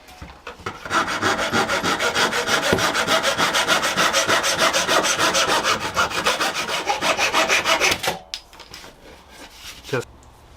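Pull saw cutting off wooden edge banding on a woodworking project, close and loud with a fast, steady back-and-forth rasping rhythm for about eight seconds, then stopping, followed by a few quiet handling knocks.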